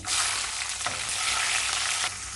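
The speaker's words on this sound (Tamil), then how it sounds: "தேவையான அளவு நல்லெண்ணெய் கடுகு உளுந்து சீரகம் நாலு காஞ்ச மிளகாய் ஆறு பச்சை மிளகாய்" Mustard seeds, urad dal, cumin and dried and green chillies crackling in hot sesame oil, a dense bright sizzle that is loud and steady throughout, with a couple of stirring scrapes.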